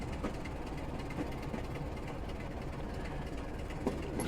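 A Class 27 diesel train rumbles steadily along the line in Train Simulator Classic, with a continuous low drone and faint occasional clicks of the wheels, no talk over it.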